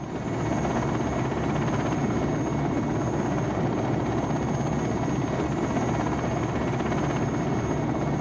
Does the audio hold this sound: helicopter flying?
yes